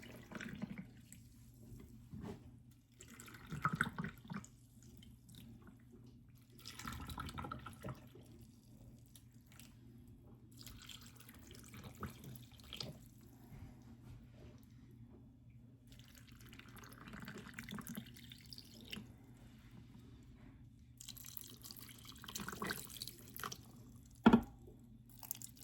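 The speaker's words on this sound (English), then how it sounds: "And then I'm going to fill the jars up with water." Tap water runs faintly into canning jars during home water bath canning of pineapple, heard as quiet, intermittent splashing and trickling in bursts with soft drips between.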